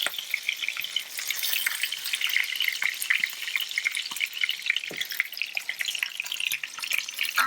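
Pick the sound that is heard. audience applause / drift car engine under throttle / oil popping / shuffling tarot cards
oil popping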